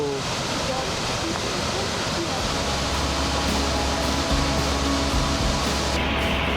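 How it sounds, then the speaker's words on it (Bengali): Perwaghagh waterfall in the jungle roars as a loud, continuous, broadband rush of falling water, close enough for spray, steady throughout. "কি বিশাল অপূর্ব সুন্দর জলপ্রপাত"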